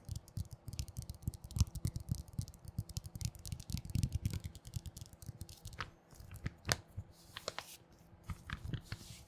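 Rapid, uneven tapping and crinkling on glossy magazine paper, close and crisp, with occasional sharper clicks and no voices.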